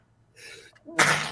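A single person sneezes close by, a short intake of breath followed by a sharp, bursting sneeze that trails off.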